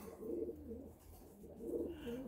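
A Red Eye Tippler pigeon in a breeding cage coos softly and close, two rolling, throaty coo phrases separated by a short pause against a quiet background, with no talking.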